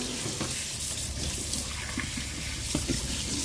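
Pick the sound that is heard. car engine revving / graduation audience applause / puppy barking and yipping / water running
water running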